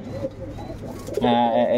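Cooing of KTM and Oman bloodline teddy pigeons, a low throaty burbling that grows steadier and louder near the end, close by, with a voice speaking over the first part.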